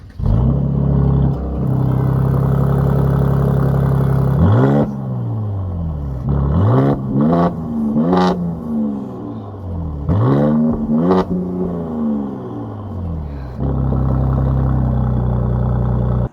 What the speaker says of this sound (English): And this car's torque really shows when you're driving it.